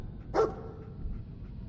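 Dogmeat, the dog in Fallout 4, gives a single short bark, close but fairly soft, over a low background hum.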